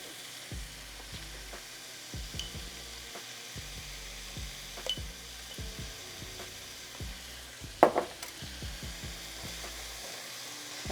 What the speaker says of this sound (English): we're going to saute the celery and the onion